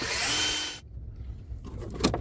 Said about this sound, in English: Now I can drill it.